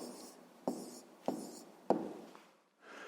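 Pen writing down a math answer on paper, with scratchy strokes broken by three distinct taps or pen touches, close and quiet, alone.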